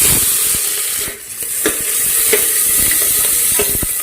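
Chopped onion frying in oil inside a pressure cooker, giving a steady close sizzle with a constant bright hiss and occasional sharp crackles and pops, with no voices.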